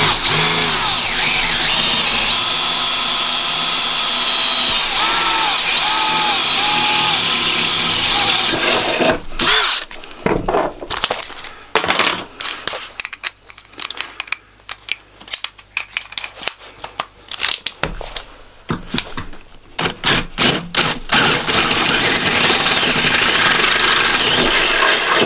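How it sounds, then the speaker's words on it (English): An electric drill whirs loudly and steadily for several seconds, then bites through a knife blank with 6mm and 8mm bits in rough, grinding bursts with short pauses between. "So drill a 6mm hole and then follow it up with an 8mm bit afterwards."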